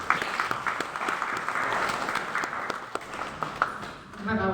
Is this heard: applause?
yes